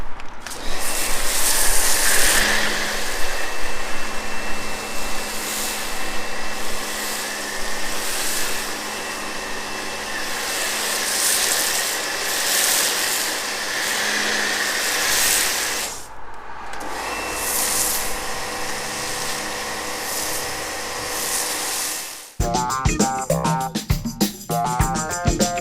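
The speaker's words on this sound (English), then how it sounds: "So what we'll do is we'll jet wash the whole car." A jet washer hisses and roars continuously while rinsing snow foam off a car, loud and close for about twenty seconds with one brief pause, then giving way to other tonal sounds at the end.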